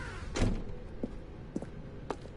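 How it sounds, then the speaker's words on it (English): A red door in The Stanley Parable sounds as a heavy thunk near the start, followed by three quieter, brief knocks or clicks spaced apart over a low background hum. "Stanley walked through the red door."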